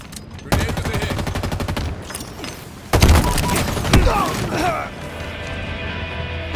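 In a video game, rapid gunfire bursts give way to a sharp grenade blast near the three-second mark, followed by crackling debris and more shots, with faint in-game voices underneath.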